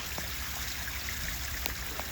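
Water trickles steadily from a shower waterfall outdoors, a continuous soft wash with occasional small drips and splashes, running weakly and heard alone without talk.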